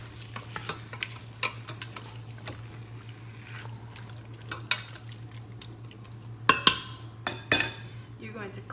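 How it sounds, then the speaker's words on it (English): Chipotle salsa and broth being stirred in an Instant Pot, with intermittent scraping and clinking of a utensil against the pot over a faint sizzle and a steady low hum, louder knocks near the end. "Just give it another good stir."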